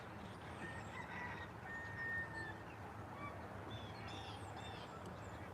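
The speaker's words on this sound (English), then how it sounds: "The roosters are crowing in the background." Roosters crow in the background of a scenic outdoor area, faint bird calls rising now and then over a steady low ambient hum, with no talking.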